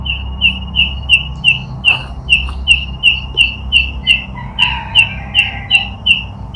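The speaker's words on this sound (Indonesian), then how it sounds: "Ini burung" A bird calls in a cemetery with a rapid, steady series of bright repeated chirps, loud and close, over low rumbling background noise and a few fainter secondary calls.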